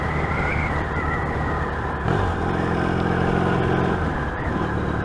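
A Yamaha XS650 SF motorcycle rides along a narrow gravel lane, its engine droning steadily up close under rough rumbling and wind noise. A gear change about two seconds in is followed by a rising pull.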